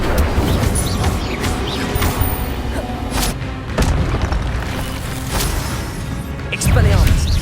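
Repeated whooshing fire blasts and crashing booms from the Incendio spell in Hogwarts Legacy, several bursts over a busy combat mix with voices throughout.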